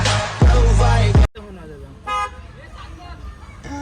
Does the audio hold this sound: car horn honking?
yes